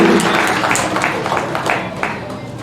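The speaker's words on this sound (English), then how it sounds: "Let's give a clap offering to her." A church congregation claps for a speaker during a Sunday service, a steady broadband patter of many hands filling the room for a few seconds.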